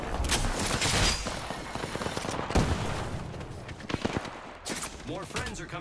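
Gunfire in the video game Warzone, with rapid bursts of automatic shots and scattered single cracks under ongoing game voice lines, loud and close throughout.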